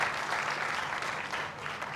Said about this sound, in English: a round of applause for Primrose